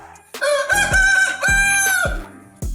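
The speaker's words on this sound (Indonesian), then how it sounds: "Dong Tao adalah jenis ayam unik asal Vietnam yang penampilannya bisa dibilang cukup sangar" A Dong Tao chicken, the Vietnamese breed, crows loudly and close, a long sustained harmonic call followed by a second crow, with clucks and low thumps between.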